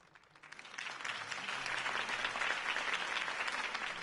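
Crowd applause greeting Harvey Dent's campaign speech in a Batman video game, swelling quickly from quiet into a steady, full roar of many clapping hands that holds throughout, with no talk over it.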